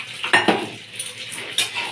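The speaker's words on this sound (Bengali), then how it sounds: "বড়িটা এখন প্যানের মধ্যে ভেজে নিচ্ছি আমি" Lentil dumplings (bori) frying in a pan: a few sharp metal clinks and scrapes of a spatula over a faint sizzle, close and brief, with no voices.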